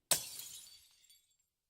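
Glass shatters in a video game: one sharp, sudden crash followed by a brief tinkling spray of shards that quickly fades into silence.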